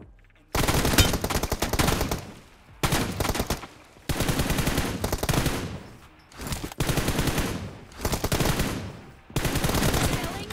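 Rapid automatic gunfire from an online shooter game rattles in loud sustained bursts separated by short pauses, with a faint voice barely present beneath the shots.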